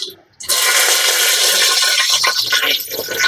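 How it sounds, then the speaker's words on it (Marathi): Cumin, mustard seeds and curry leaves hit hot oil and burst into a loud, steady sizzle that carries on close by for several seconds after a short quiet start, with no talk. "तेल छान तापलेलं आहे, त्याच्यामध्ये आपण जिरं टाकून घेणार आहोत, थोडीशी राय, कढीपत्ता,"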